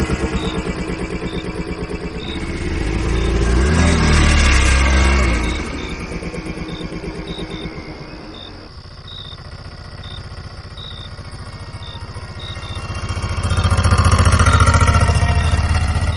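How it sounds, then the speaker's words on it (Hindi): An auto rickshaw engine in a Hindi horror cartoon starts up and runs with a rattling, clattery idle. Its revs swell, dip and swell again as the vehicle pulls away, with a steady ticking beneath and no talk. "राजू भाई ने चुपचाप इंजन स्टार्ट किया और बिना ज्यादा कुछ बोले हम वहां से निकल पड़े"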